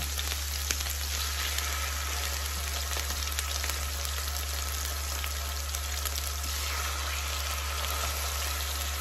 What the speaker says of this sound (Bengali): আর এখন মুরগিগুলি দিয়ে দিব ভাজার জন্য।